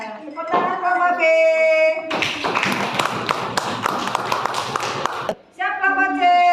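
A group of primary school pupils claps hands together in a classroom, a dense burst of rapid overlapping claps lasting a few seconds between stretches of an adult speaking.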